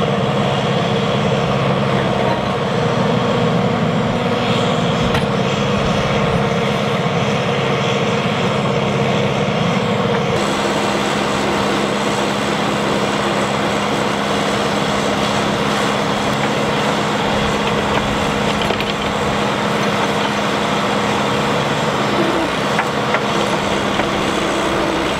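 A tractor engine runs loudly and steadily throughout, a constant droning rumble with a slight shift in pitch partway through, at a garden site where trenches are being dug for hugelkultur beds.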